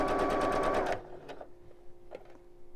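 Sewing machine stitching a shirt along a curved seam, a fast loud needle rattle for about a second, then stopping, followed by a couple of short bursts and soft handling noises.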